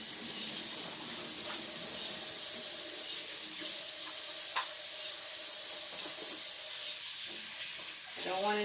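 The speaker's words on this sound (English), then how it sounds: "Let me rinse this out." Tap water runs steadily into a sink while a bottle is rinsed out, with small clinks and splashes throughout and a brief gurgle near the end.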